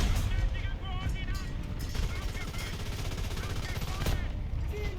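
Booming tank cannon blasts and crackling gunfire in War Thunder, with loud rumbling and engine noise throughout.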